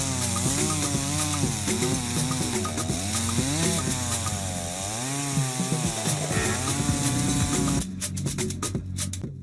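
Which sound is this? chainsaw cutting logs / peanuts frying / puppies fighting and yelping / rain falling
chainsaw cutting logs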